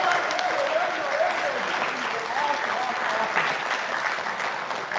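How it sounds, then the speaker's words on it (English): A roomful of students at a faculty orientation clapping in a lecture hall, a sustained round of applause with a faint voice or two mixed into the dense clapping. "Guys, I want each and every one of you to give yourself a round of applause."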